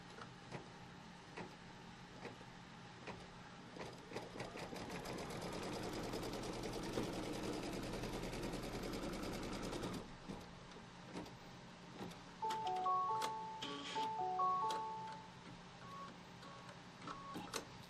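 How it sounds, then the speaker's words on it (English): An embroidery machine stitches a line across quilt fabric held in a hoop, making a continuous whirring mechanical drone with rapid needle ticking, loudest midway, then a few short electronic beeps near the end. "now it's going to stitch a line going all the way across, tacking both of those pieces of fabric down"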